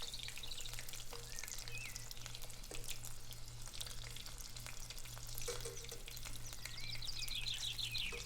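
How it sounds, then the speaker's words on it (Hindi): Chicken and potato croquettes fry in oil over medium heat, giving a steady low sizzle throughout with occasional light clinks and stirring scrapes, close and even, with no talking. "आप इनको दरमियानी आंच पे फ्राई करें ताकि अंदर तक अच्छे से फ्राई हो जाए।"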